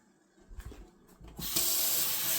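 Tap water runs steadily into a sink while a toy action figure is rinsed, a brief soft rustle giving way to a loud continuous gush that fills the last second.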